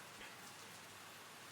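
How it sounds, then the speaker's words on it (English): Steady rain falling as a soft, even hiss with no breaks, a calm backdrop for late-night reading. "doing these late night readings with the rain sounds and stuff"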